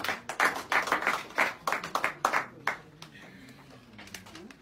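Audience applause at a gathering of elders addressing a political figure, a burst of clapping rising and fading in waves over several seconds, fairly close and loud.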